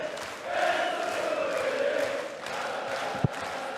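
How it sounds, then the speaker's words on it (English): Crowd at a darts match, the Austrian Darts Open, roars and chants steadily in the background of an arena, sustained and moderately distant, with a brief sharp knock near the end. "Crowd doing their best to G Mensur on"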